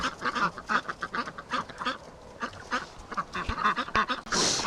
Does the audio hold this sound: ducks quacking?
yes